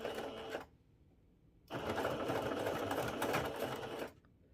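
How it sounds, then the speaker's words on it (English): A sewing machine stitches tulle and ribbon in two close bursts, a short run and then a longer steady whirring stretch, with a quiet pause between them and no voices. "Hold your tulle hold your ribbon and start sewing."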